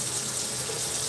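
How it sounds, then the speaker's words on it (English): Water runs steadily down the drain of a kitchen sink, a continuous close rushing and gurgling wash with no pauses. "going to also watch this water as it goes down the drain"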